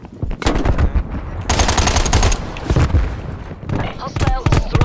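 Rapid bursts of automatic gunfire from a video game weapon in a team shooter match. The shots are loud and close, with steady rattling volleys and short pauses, and players talk over them.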